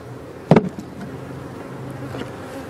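Honey bees buzzing at a defensive hive during a honey flow, a steady close drone with one sharp loud bee passing right by the microphone early on, no talk.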